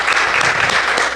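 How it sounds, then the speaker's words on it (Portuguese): A church congregation at a worship service bursts into dense, loud, continuous applause, a steady wash of many hands clapping close by, with a faint trace of voices underneath. "vamos dar aquela linda salva de palmas ao Senhor Jesus"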